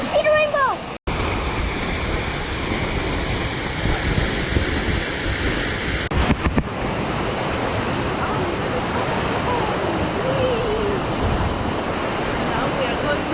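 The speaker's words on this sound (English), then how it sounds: "I can see the waterfall." Steady broadband rush of falling water at Queen Mary Falls, loud and continuous throughout with a brief dropout near the start, as a voice speaks over it at times.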